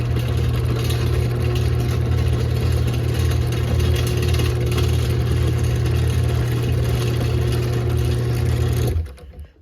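LiftMaster ATS211R gate opener driving the gate up, a loud steady motor hum and whir with a low drone, running continuously close by for about nine seconds before stopping abruptly.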